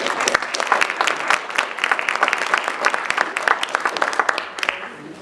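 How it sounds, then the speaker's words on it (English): An audience at a public input session on community grants in Valemount gives presenters a round of applause, a steady, moderately loud patter of many hands that thins out and fades at the end. "Another round of applause for our presenters"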